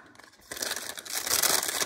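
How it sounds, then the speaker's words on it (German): A plastic bag being cut open crackles and crinkles loudly up close. The sound starts quieter and swells into dense, continuous rustling after about half a second. "Ich schneide jetzt mal knapp unter dem Baum die Tüte auf."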